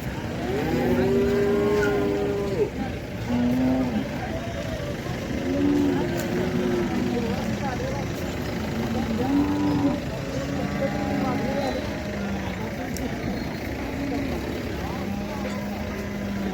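A cow moos repeatedly at a Khillar cattle market in Sangola, long low calls rising over the chatter of a crowd and a rumbling engine.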